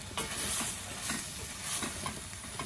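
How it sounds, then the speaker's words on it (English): Coconut cream being stirred into a dried shrimp curry, a soft steady scraping and sizzling close by with a few louder strokes, no voices. "the coconut cream, which it is coconut cream, not coconut milk. So I'm going to stir that."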